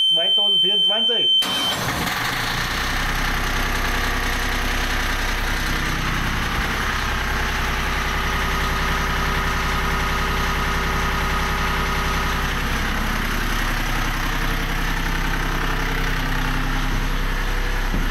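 A loud diesel engine idles steadily and continuously after a brief startup, a rough low rumble that dominates throughout.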